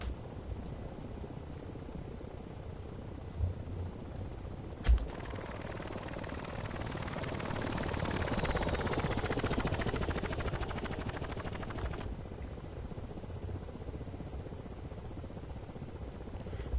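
Ka-50 Black Shark helicopter in the DCS flight simulator, a steady rotor and turbine drone that swells through the middle, with a sharp click near the start.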